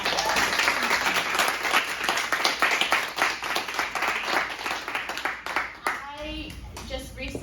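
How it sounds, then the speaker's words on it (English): An audience breaks into lively applause, many hands clapping densely and steadily with a voice and other chatter mixed in, before the clapping fades and a person begins speaking. "Let's give her a round of applause"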